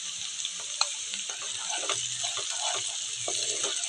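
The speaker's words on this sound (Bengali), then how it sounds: "যতক্ষণ না আদা রসুনের গন্ধটা যাচ্ছে ততক্ষণ আমাকে ভাজতে হবে" Ginger garlic paste frying with onions in a pan gives a bright, continuous sizzle, with spatula stirring and small clatters throughout, close up and without speech.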